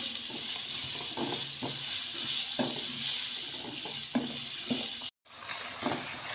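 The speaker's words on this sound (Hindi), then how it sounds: "इसको प्याज के साथ हम 2 से 3 मिनट फ्राई करेंगे" Finely chopped potatoes frying with onions in a pan, a constant hiss of oil with soft periodic stirring scrapes, close and steady, briefly cut to silence near the end.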